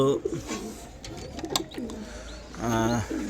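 Giribaz pigeons coo in short low throaty bursts close by, with faint background voices mixed in.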